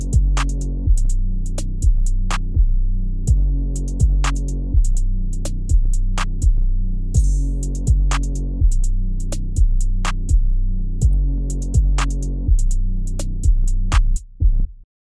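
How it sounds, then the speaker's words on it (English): Full FL Studio drum loop for a wavy beat, with bouncy hi-hats, a snare and an open hat over deep repeating bass hits, loud and steady with a regular rhythm, a brief airy open-hat wash midway and a sudden stop. "all of the drums together sound like this."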